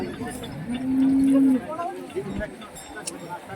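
A cow gives a single long, low moo amid murmuring voices and general background bustle at a cattle and bullock market in Neknur, Beed.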